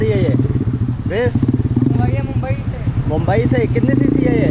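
A modified 125cc petrol River Indie motorcycle engine idles nearby with a steady low rumble and rapid pulsing, running continuously under loud, nearly constant talking.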